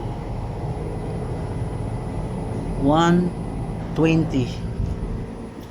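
A floor-mounted air conditioner's outdoor unit hums steadily in the background while someone speaks over it twice, the mechanical drone continuous throughout.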